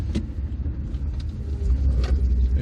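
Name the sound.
1978 Princess 2 2200 HLS car being driven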